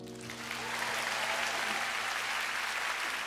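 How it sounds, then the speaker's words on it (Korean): A TV music show studio audience breaks into applause, quickly swelling from a low hum into dense, steady clapping that fills the room at a strong level. "박수로."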